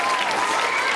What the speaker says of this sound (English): give all our teachers a big round of applause